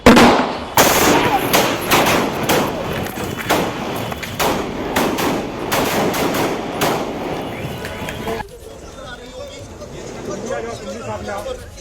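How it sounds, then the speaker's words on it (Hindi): Gunshots fired at police ring out in a rapid irregular volley of loud sharp bangs, close and echoing, followed by a quieter stretch of distant noise and commotion. "मैम हम लोग पे गोलियां चल गई मैम"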